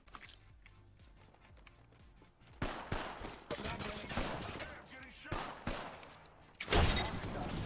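Video game combat with repeated sharp gunshots and thumping grenade blasts, rapid bursts building in intensity and ending in a loud explosion, with a voice talking over parts.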